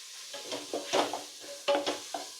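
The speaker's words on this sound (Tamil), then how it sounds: "அதையும் நல்லா வதக்கணும்." Tomato and green chili sautéing in a pan, with intermittent stirring scrapes and clinks of a utensil against metal over a soft, quiet sizzle, close by.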